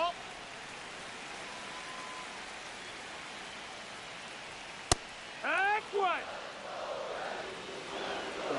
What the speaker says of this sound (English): now I can hear the rain getting even harder